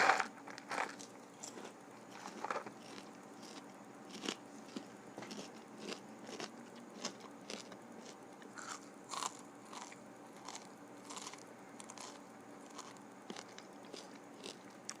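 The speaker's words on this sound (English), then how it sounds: "Some people like to hear the crunches." Close-miked ASMR eating: irregular crisp bites and crunchy chewing repeat throughout, quiet but sharp against a hushed background, with no talking.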